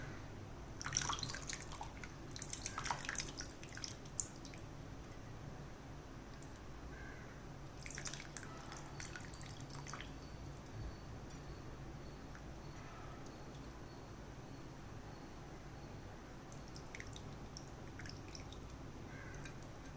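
Dissolved tamarind water is poured into a pot of mango and drumstick sambar, making soft, faint splashing and dripping in a couple of short bursts against a low, steady background hum.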